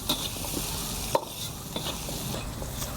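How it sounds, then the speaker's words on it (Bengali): Potatoes fry in a pan with turmeric for a bitter gourd curry, a steady close sizzle with stirring scrapes and one sharp clink partway through, no voices. "আমি আলুটাকে ভেজে নেব"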